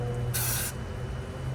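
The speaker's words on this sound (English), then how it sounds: "spray like the shaft and spray all around." Short hiss from an aerosol can sprayed onto the wheel hub shaft of a 2010 Chevy Impala LTZ, a single brief burst close to the microphone over a quiet hum.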